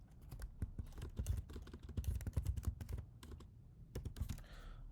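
Quiet, close typing on a computer keyboard: a steady, uneven patter of key presses that runs nearly unbroken for several seconds.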